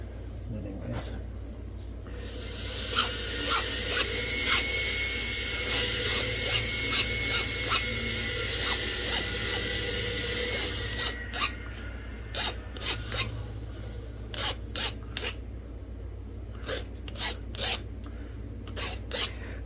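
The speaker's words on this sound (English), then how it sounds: "hopefully that saw is not going to be too loud out there" A harsh, continuous rasping power-saw whine runs for about ten seconds, then stops, leaving scattered clicks and knocks. The saw runs outdoors while heat-treated Edwards Plateau Frio flint is being knapped.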